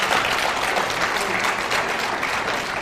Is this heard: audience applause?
yes